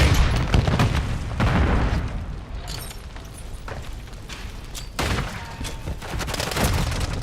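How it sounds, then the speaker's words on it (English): Semtex grenade blasts in Call of Duty Modern Warfare 3, with several heavy booms amid ongoing gunfire and loud battle noise throughout. "Grenade! Semtex incoming!"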